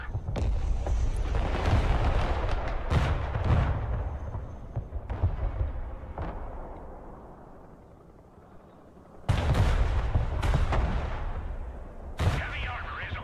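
Heavy artillery fire thunders across a battlefield in the multiplayer war game Broken Arrow, with rumbling barrages and sharp blasts. Two sudden loud booms break through a quieter stretch of distant gunfire.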